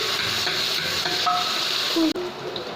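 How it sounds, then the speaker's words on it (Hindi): Spices sizzle and crackle in hot oil as a tadka tempering for dal, a steady frying hiss with a few brief clinks. "तो तड़का हो गया तैयार"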